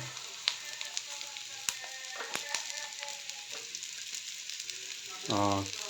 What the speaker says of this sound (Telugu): ఎర్రగడ్డలు కొద్ది ఎల్లోయిష్ కలర్గా వచ్చే వరకు బాగా వేయించుకోవాలి.